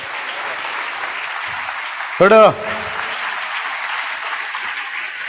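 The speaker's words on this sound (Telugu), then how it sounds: "కొట్టు చప్పట్లో" Brief burst of audience clapping at a church sermon, lasting under half a second, set between stretches of a preacher's voice over a steady room hum.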